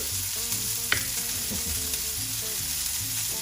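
A burger patty sizzles steadily in a hot pan right after being flipped, a continuous close frying hiss with faint crackles and one sharper pop early on. No voices.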